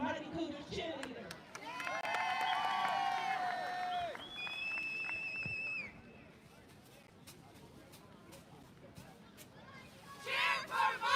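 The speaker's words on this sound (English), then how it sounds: "Let's give it up for Harrisburg's Mighty Cougar cheerleaders." A crowd at a Harrisburg High School gathering cheers and claps for the Mighty Cougar cheerleaders, with shouts and whoops over steady clapping. An announcer's voice rises above it before a louder burst of cheering near the end.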